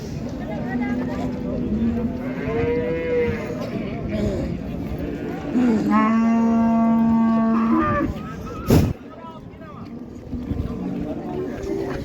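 A bullock moos at a busy livestock market in Qarshi, with two long, loud, drawn-out calls close by while people talk and bargain around it.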